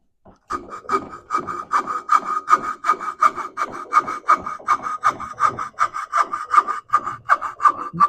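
Blade carving into a wooden Common Eider drake head where the cheek meets the bill, giving close, steady rhythmic scraping and cutting strokes, repeated quickly for several seconds with no talking.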